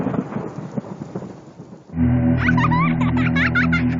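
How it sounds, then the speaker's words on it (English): A thunder sound effect in a video game radio ad booms and rumbles loudly, then gives way abruptly to steady rain and a higher, warbling tone layered over the storm noise. "Because after you get struck by lightning, there's thunder."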